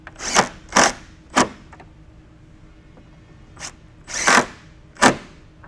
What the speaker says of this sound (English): we're just going to drive those screws up into the header.